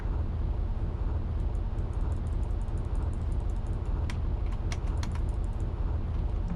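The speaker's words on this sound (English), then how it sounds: "I am clicking the brakes right now, and I'm hitting the letter A" Keyboard keys are tapped repeatedly, the A key used to brake in a spooky driving video game, light clicks clustering near the end over a loud steady game rumble.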